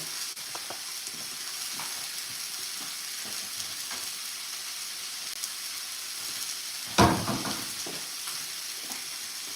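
Pork tenderloin sizzling as it cooks in a pan, a steady soft fry and hiss running throughout with a brief louder crackle near the end, heard alone without talk.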